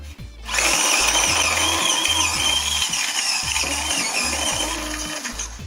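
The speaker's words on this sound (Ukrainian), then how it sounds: "Закриваємо і подрібнюємо." An electric vegetable chopper chops sweet pepper with a loud, close, high-pitched motor whine. It runs continuously for several seconds with a rhythmic low chopping pulse underneath, then winds down slightly, with no voices.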